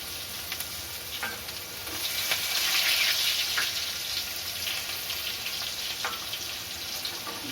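Chopped medium onion hits hot oil and sizzles loudly, the frying swelling after a couple of seconds with a few stirring clicks, then settling into a steady crackle, close and without talk.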